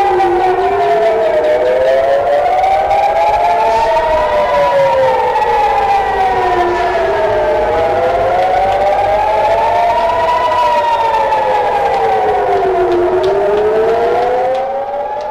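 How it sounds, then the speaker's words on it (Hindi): An air raid siren in Haifa, Israel wails continuously during an Iranian missile attack, its pitch rising and falling in slow, regular sweeps, loud and unbroken throughout. "हैफा में एक बार फिर सायरन की आवाजें गूंज उठी हैं।"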